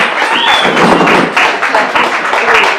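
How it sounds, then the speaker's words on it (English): Wedding guests applaud at a reception, a dense wash of clapping that stays loud and steady for several seconds with no talk over it. "Please give a round of applause."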